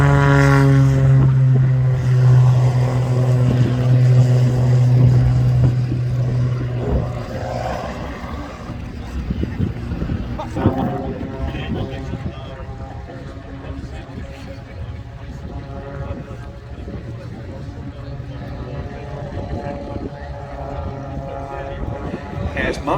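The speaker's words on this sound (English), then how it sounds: "to see the team leader Mark Jeffries in his 330 horsepower 330 SC model getting airborne as only Mark can." A 330 horsepower 330 SC aerobatic plane takes off at an air show, its propeller engine droning loud and steady with a strong tonal hum at first, then a rougher roar as it climbs away, with a commentator talking over it.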